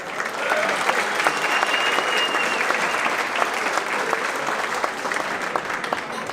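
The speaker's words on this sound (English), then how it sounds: "So please give a warm round of applause to Henry Pepsi Pena." Steady, full applause from a Tejano Roots Hall of Fame induction audience welcoming a broadcasting inductee, a dense wash of clapping that holds evenly for several seconds with no one speaking.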